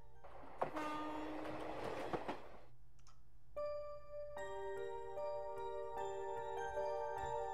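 Train car ambience from the visual novel Narcissu: a steady rumbling interior hum with clacking, then sustained tonal horn-like chimes ring out clearly over the background, no voices.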